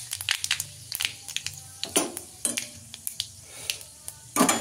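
Boiled chalta (elephant apple) goes into a pan with red chilli, bay leaf and five-spice for pickle, giving a run of sharp clinks, knocks and soft crushing thuds against the metal, fairly close.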